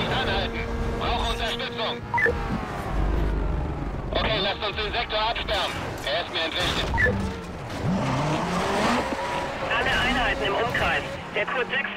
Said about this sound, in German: Und dann hauen wir einfach mal ab, weil wir einen Ferrari fahren und schnell sind.